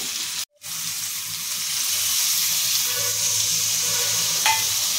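Kashmiri chili powder, turmeric and salt sizzle steadily in a pan while being stirred, a brief pause near the start before the close, continuous frying hiss with faint scraping.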